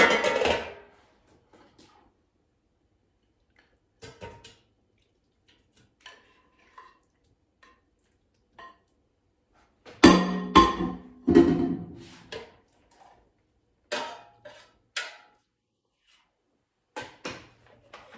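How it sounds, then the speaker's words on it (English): Raw seasoned beef steak cubes, dusted with garlic powder, dropped into an air fryer basket: a series of soft, separate clinks and taps, one louder flurry midway, otherwise quiet, with no talking. "And now I'm going to put steak pieces in the air fryer basket"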